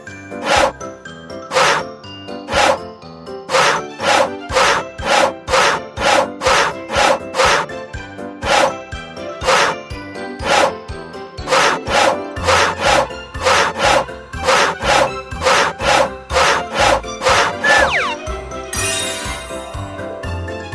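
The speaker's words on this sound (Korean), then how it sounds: "왼쪽, 오른쪽 톱질을 해주세요." Rhythmic back-and-forth sawing of wood in a Pororo children's video game, about two dozen bright rasping strokes in a steady beat, ending with a light tinkling jingle.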